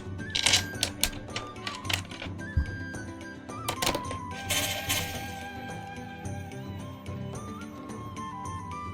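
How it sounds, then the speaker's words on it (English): Arcade controller joystick panel being dropped in and screwed into place, a close run of sharp plastic clicks, knocks and ratcheting taps with one heavy thunk, alone. "we're just going to line it up, drop it in, and then screw it into place"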